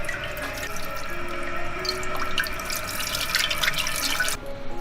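Grass carp belly is rinsed under a running kitchen tap, with a steady close stream of water splashing and dripping into the sink. Nobody speaks.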